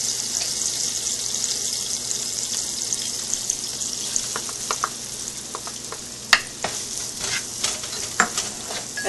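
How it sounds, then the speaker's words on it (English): Onions with green chilies fry in a pan for veg bread roll stuffing, giving a steady, fairly loud sizzle close by with intermittent clicks and scrapes of stirring toward the end. "fry the onions till they are translucent"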